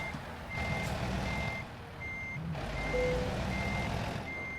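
A truck in American Truck Simulator backs toward a loading dock, its reversing alarm beeping at an even, repeated rhythm over a low engine rumble. No voices.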